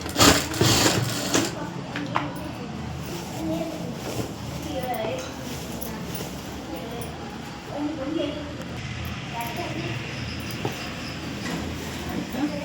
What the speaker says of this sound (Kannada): ಇದೇ ಥರನೇ 1/2 ಇಂಚು ಮಾರ್ಜಿನಲ್ಲಿ ಸ್ಟಿಚಿಂಗ್ ಹಾಕ್ಕೊಂಬರೋಣ.